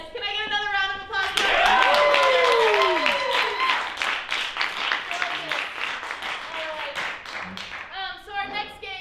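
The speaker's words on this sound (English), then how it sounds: "Can I get another round of applause?" Clapping from an audience at an improv comedy Christmas special swells after a brief moment, peaks, then thins into scattered claps while voices speak over and around it.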